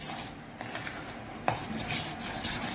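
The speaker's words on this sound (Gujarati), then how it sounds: "અહીંયા અમે જે આપણું કાચું દૂધ કહેવાય તેને પણ આપણે થોડું ઘણું એડ કરવાનું છે અને તેને બરાબર હલાવી લેવાનું છે" Raw milk being stirred into eggless chocolate brownie batter in a bowl, with soft scraping and light utensil clinks, one sharper knock midway, steady close kitchen noise and no talk.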